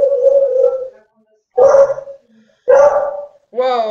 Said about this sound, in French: Waouh le chien là. Waouh le chien.